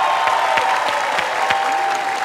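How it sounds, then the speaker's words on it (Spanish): A studio audience at a televised competition gives a dense, sustained burst of applause for a contestant in the public vote, loud and even throughout. "Voy a pedir el aplauso para Ninel Conde."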